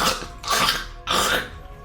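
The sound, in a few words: game master imitating a character's coughing and spluttering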